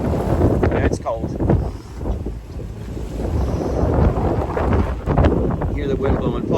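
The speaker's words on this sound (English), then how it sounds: "Hear the wind blowing, probably 20 knots" Wind of around 20 knots buffets the microphone aboard the sailing ship Spirit of South Carolina near the Charleston jetties, a loud rumbling gust with water noise and bits of voices mixed in.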